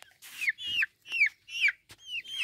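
Dark Brahma chicks give loud, close, descending peeps in a steady run of about six calls, with a faint low rumble between them.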